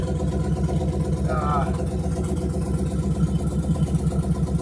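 An old carbureted 1957 GMC truck engine idles with a smooth, steady low rumble, its rhythmic chugging continuing without change throughout.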